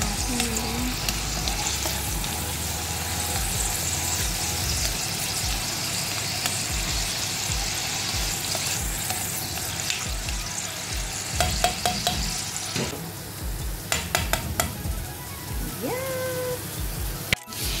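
Bitter melon (ampalaya) sautéing with onion in a hot pan, a loud continuous sizzle and crackle with occasional spatula scrapes and clatters toward the end, close by, with faint talk now and then.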